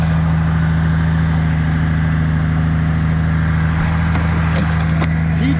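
A car engine idles steadily after a jump start, with a constant low hum and rumble, no voices, running evenly throughout.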